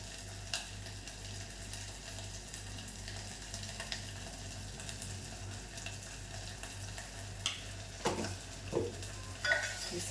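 A spoon stirs the chutney-laced masala mixture for brinjal curry in a pan, over a steady low sizzle with a few sharp scrapes and clicks near the end, close and fairly quiet.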